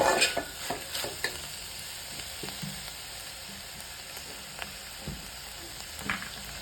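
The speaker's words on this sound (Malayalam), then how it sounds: "നമുക്കിതിലേക്ക് അരപ്പ് ഒഴിച്ച് കൊടുക്കാം." Ground paste added to a simmering mushroom curry in a pan, heard as a soft sizzle with a few stirring scrapes and light clinks, fairly quiet and close, no speech.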